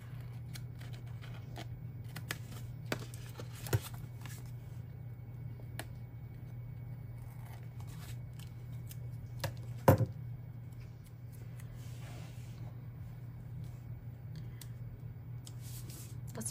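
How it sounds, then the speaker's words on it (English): Scissors cut paper planner pieces and scraps, making a string of short, crisp snips at irregular intervals over a low steady background hum, with one louder snip partway through. "let me cut these off and I can maybe use some of the scraps too"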